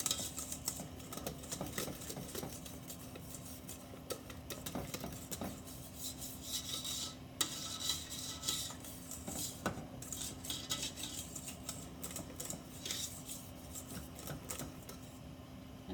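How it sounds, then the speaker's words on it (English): A spatula scrapes Swiss meringue down the sides of a mixing bowl, giving continuous rubbing and scraping with small clinks against the bowl, close and steady, with a faint background hum and no speech. "Scrape down the sides, get everything"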